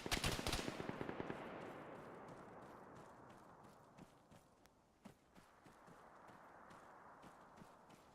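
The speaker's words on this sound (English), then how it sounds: "we've got a machine gunner over that way." Machine gun fire in the Arma 3 Antistasi mod opens with a loud close burst of rapid shots, then trails into fainter, scattered distant shots over a steady battlefield rumble.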